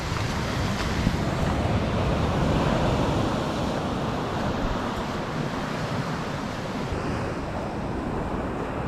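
Beach surf at Playa los Muertos in Sayulita, Mexico, a loud continuous wash of breaking waves with rushing wind buffeting the microphone throughout.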